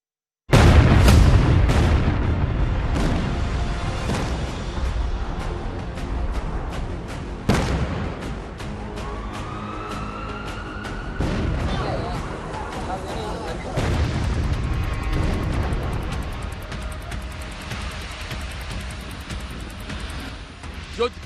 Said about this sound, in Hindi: रूस यूक्रेन के अहम ठिकानों को निशाना बनाकर बमबारी कर रहा है।